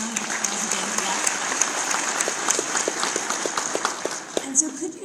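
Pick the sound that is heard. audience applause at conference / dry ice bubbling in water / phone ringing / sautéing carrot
audience applause at conference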